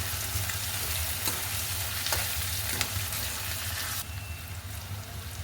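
Tomato and besan sautéing in a pan, giving a continuous close sizzle with a few sharp stirring scrapes and a brief shift in tone near the end.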